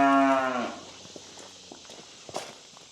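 A bull calf being weaned moos once loudly and close at the start, then fades into scattered hoof steps and light knocks in a pen.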